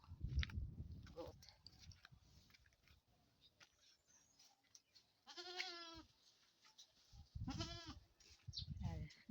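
Goats in a field in spring, with two clear drawn-out bleats standing out over quiet chewing and rustling nearby, with faint background talk.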